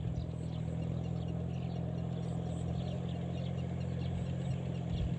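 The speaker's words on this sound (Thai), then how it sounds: "เป็นรถไถคูบูต้านะครับ" An old three-cylinder Kubota tractor fitted with steel wheels idles in a rice field, a steady low engine drone with faint birds in the background.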